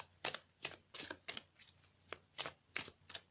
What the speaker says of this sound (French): Moi, je vais couper le jeu.